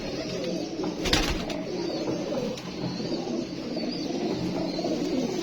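A female Teddy pigeon in a Karachi pigeon loft gives low, rolling coos that run on steadily and close by, with a brief burst of wing flapping near the start.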